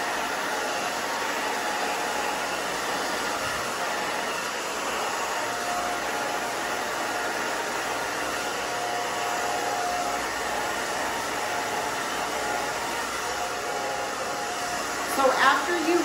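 A hair dryer blows steadily through short bob-length hair being styled with a round brush, a continuous close whoosh that holds for the whole stretch with slight variations as the airflow shifts, and a brief bump near the end.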